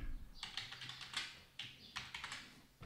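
Quick, uneven typing on a computer keyboard while coding a Flutter app, with bursts of sharp key clicks and a short pause midway, close and fairly quiet.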